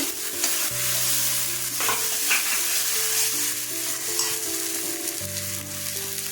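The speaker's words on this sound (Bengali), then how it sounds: "পেঁয়াজটা কষানো হয়ে গেছে টমেটো দিয়ে দিচ্ছি" Tomatoes added to a pan of sautéed onions, frying and being stirred, with a steady sizzle and scraping stir strokes, fairly close with no talking.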